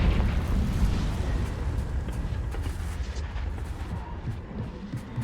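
A Confringo blast spell going off in the video game Hogwarts Legacy, a loud rumbling explosion that rolls on and slowly fades across several seconds.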